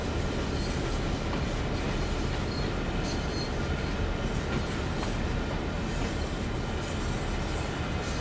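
A long train runs steadily in the Train Sim World 2 video game, with dense, continuous rail rumble and faint wheel clatter throughout, even and unbroken, with no talking.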